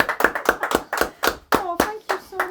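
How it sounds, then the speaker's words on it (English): A small group gives a round of applause at a community recognition event; a few pairs of hands clap in close, uneven bursts, with a voice speaking near the end. "Round of applause."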